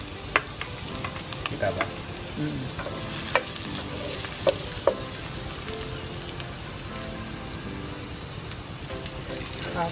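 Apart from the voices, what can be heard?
garlic sautéing in pan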